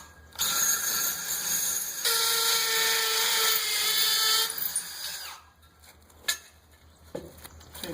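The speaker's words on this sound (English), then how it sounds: "I'm going to go ahead and drill this one down here." A power drill bores into a wrought iron gate pole with a loud, steady whine that steps up in pitch midway, then cuts off, followed by a few clanks and handling knocks.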